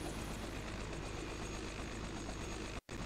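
Helicopter in the video game Flight Simulator 2020, a dense, steady rotor and engine drone filling the sound, broken by a brief dropout just before the end.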